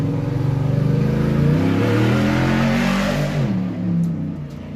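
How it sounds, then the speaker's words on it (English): The new engine of an Ultra4 off-road race truck at a race start revs hard and close, a loud throaty roar climbing and falling in pitch over several seconds before easing off. "Doesn't sound too bad for a new motor."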